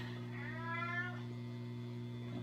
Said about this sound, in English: I've got the cat.